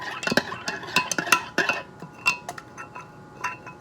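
A utensil scrapes and clinks against a cooking pot during stirring, producing irregular metallic taps and knocks close by, busier at first and then sparser.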